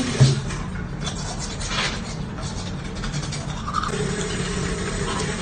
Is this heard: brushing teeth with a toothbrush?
yes